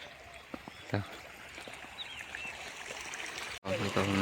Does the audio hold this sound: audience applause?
no